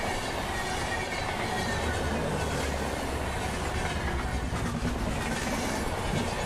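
An Indian high-speed train hauled by a WAP-7 locomotive, bound for Howrah, passes on a curve as a loud, continuous rumble with rolling wheel clatter and faint squeal, with no voices.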